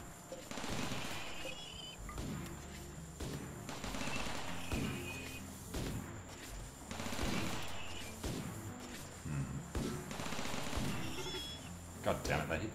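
Rimworld combat with the Combat Realism mod fills the air with repeated rapid gunfire bursts and rattling shots over a steady noisy bed, while someone talks over the action.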